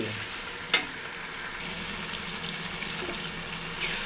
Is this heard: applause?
no